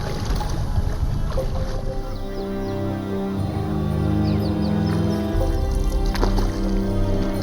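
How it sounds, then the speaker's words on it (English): A long stick paddles a dugout tree-trunk canoe along a river, with close rhythmic water swishes and drips over a steady background hum, no talking. "A long stick serves as a paddle, and a tree trunk as a canoe."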